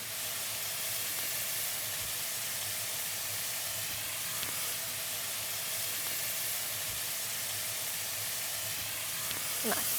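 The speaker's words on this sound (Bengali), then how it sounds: "এখানে আদা রসুনটা সুন্দর করে কষিয়ে নিতে হবে।" Ginger-garlic paste with turmeric sautéing in a pan, producing a steady, close sizzle and hiss with faint stirring scrapes throughout and no talk.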